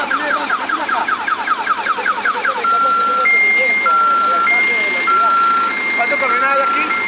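New garbage compactor trucks give off steady reversing beeps, alternating between two pitches in a regular repeating pattern, after a stretch of people talking nearby.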